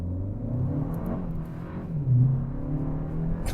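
Kia K4 GT-Line with a 1.6-litre turbo four and 8-speed automatic pulls hard under acceleration, a steady low engine rumble and whir building smoothly from inside the cabin with no talk.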